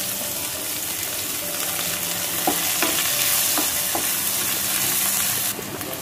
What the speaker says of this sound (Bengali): পেঁয়াজটা হালকা ফ্রাই করা হয়ে গেলে